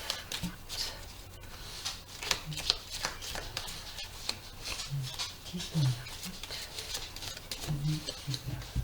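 Playing cards being shuffled and cut by hand during a tarot-style reading, a soft, steady riffling and patter of card edges close by, with quiet low sounds underneath.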